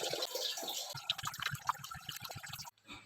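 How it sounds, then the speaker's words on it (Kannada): Rice and chana dal are washed in water, with soft sloshing, swishing and dripping at low volume, ending in a brief quiet gap and a faint trickle. "ಅಕ್ಕಿ ಮತ್ತು ಕಡಲೆಬೇಳೆನ ಒಂದು 3-4 ಸಲ ಚೆನ್ನಾಗಿ ಹಿಸ್ಕಿ ತೊಳೆದು"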